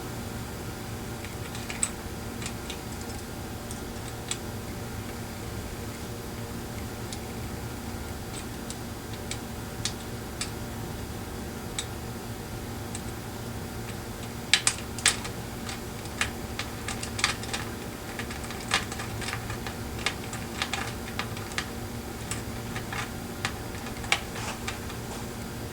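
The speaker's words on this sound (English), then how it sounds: "So right now I'm using a socket to put the jack in place." A socket wrench tightens the output jack nut on a 1979 Washburn A20-V guitar, giving sparse, quiet ratcheting ticks and small clicks over a faint steady room hum, with a brief cluster of sharper clicks partway through.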